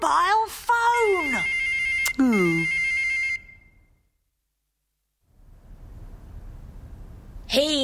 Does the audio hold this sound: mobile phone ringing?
yes